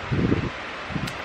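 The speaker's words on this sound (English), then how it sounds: "That's the loud fan that you're hearing" A loud fan runs in a room as a steady broadband whoosh through the whole moment, with a couple of soft low rustling bumps over it.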